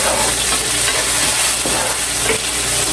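Garlic, onion and tomatoes sautéing in a pan give a loud, dense, continuous sizzle, with faint stirring scrapes mixed in and no voices.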